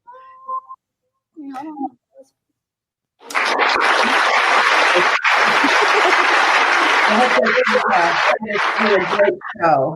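Applause played on a talk show, a dense sustained burst of clapping and cheering that swells in after brief speech, stays loud for several seconds, then breaks up into scattered claps near the end.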